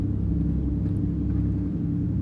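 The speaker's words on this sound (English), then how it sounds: "That's like the loudest truck." A loud truck or boat engine rumbles low and steady near the dark Florida Keys shore, a continuous heavy drone with no break across the clip.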